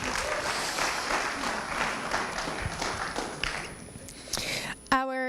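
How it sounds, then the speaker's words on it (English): A poetry competition audience gives a steady round of clapping for about five seconds, then a voice starts speaking as the applause ends. "Round of applause."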